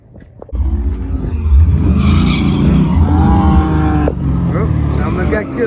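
A stuck race car at the track is restarted; its engine fires up and roars loudly and close, revving and holding a rough, rising tone for several seconds before easing slightly.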